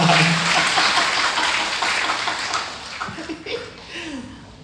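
A church congregation applauds, a loud wash of clapping that gradually thins and fades, with scattered laughter and voices coming through near the end.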